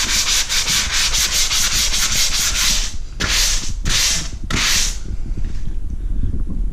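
Sanding drywall joint compound in the corners during a pantry remodel: loud, close, rapid back-and-forth rasping strokes for about three seconds, then three separate longer strokes before it fades out.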